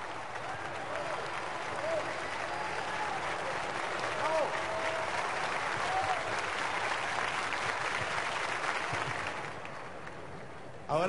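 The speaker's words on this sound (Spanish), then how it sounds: "Un aplauso al maestro gigantesco." Huge stadium crowd at an outdoor peace concert applauding a conductor, a broad, sustained roar of clapping with cheering voices and a few whistles mixed in, holding steady for many seconds before easing off.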